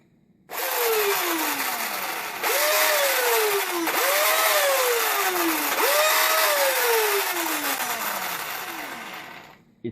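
An old cordless drill motor runs on a 24 volt supply, a loud, rough whine that repeatedly revs up in pitch and sags back down in several sweeping cycles, alone without talk.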